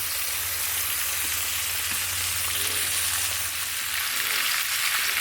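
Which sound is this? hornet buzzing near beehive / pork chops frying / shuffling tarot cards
pork chops frying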